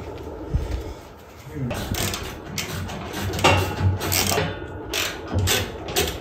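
Ratchet turning bolts while rock sliders are mounted on a 4th-generation Toyota Tacoma, with repeated close clicking bursts and mechanical clatter under intermittent voices nearby.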